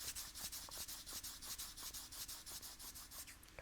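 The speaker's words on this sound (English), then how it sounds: "Rub the palms." Palms rub briskly together at the close of a yoga practice, a steady back-and-forth swishing of skin at close range, about a dozen even strokes with no talking.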